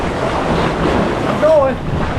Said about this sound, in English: We got a lot of waves coming in. Big waves.